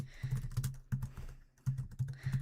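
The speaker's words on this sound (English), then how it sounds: "And I'm sorry if my keyboard is really loud." Loud, close keyboard typing in quick bursts of clacking keys with brief pauses between runs, no voices.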